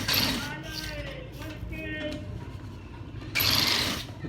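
Sewing machine stitching a gents' kameez collar, with a steady close mechanical whir and rattle of the running mechanism that grows louder at the end, while a voice talks over it.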